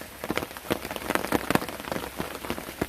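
Rain falls outdoors in a rural setting, light scattered drops pattering on a surface in an uneven rhythm, fairly soft and close, with no voices.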